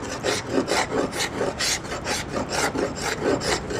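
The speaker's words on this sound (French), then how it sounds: "il faut bien gratter ça, le noir, pour enlever toutes les traces de maladie du bois" A wooden handrail, some 3.5 to 4 metres long, scraped by hand to lift off old varnish and blackened, diseased wood: a steady run of rhythmic rasping strokes, close and fairly loud, with no voices.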